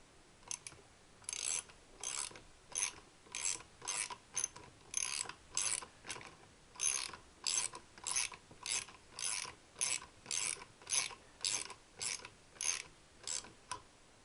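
A ratchet wrench clicking while barrels are being removed, close, quick bursts of ratcheting in a regular rhythm of short strokes with brief pauses between, no voices.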